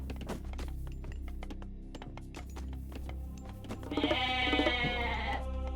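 Goats bleat in the video game Age of Mythology: one clear, wavering bleat near the end stands out over a steady bed of game sounds and clicks.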